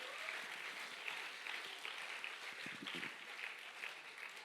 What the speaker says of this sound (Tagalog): Sige, dagdagan pa natin yung palakpak natin sa Panginoon